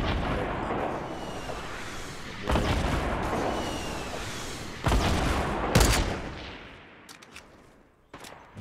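Fortnite gunfire crackles in bursts of shots and booms, with sharp loud reports at intervals over a rushing background, no talking.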